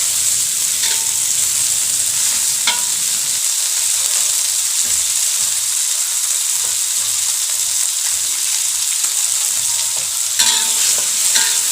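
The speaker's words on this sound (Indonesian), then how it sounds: "lalu kita masukin cabai rawit dan irisan tomatnya ya. Dan kita tumis-tumis kembali sampai layu." Shallots, garlic, chili and tomato sizzle in hot oil in a pan, with a steady frying hiss and occasional stirring scrapes, close up and without talking.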